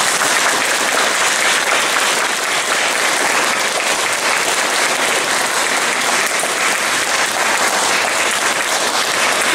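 Loud, dense applause from a large audience greeting a community arts group at a Polish stage event, steady and unbroken for the whole stretch with no voices standing out.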